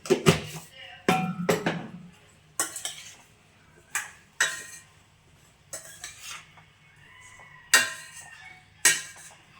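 A spoon scrapes and clanks against a metal cooking pot while salt and a pinch of turmeric are stirred into a vegetable sambar, with irregular sharp knocks and scrapes and quiet gaps between strokes.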